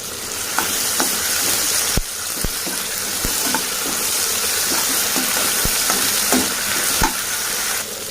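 Onion, tomato and ginger-garlic paste fry in a pan for dry fish fried rice, a steady close sizzle broken by sharp scraping clicks as a spoon stirs through, with no talking.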